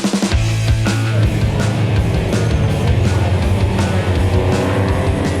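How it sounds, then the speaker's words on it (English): Loud race car engines roar and rev together as several cars pull away on a pace lap at Zwartkops circuit, a dense, continuous mechanical drone with rising pitches. "Green flag and the cars are away on the pace lap."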